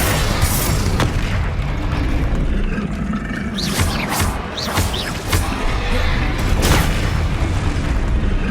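Booming explosions from Bombarda and Confringo spells in Hogwarts Legacy, a dense run of loud, close blasts and crashes over rumbling combat noise, several sharp bursts in quick succession.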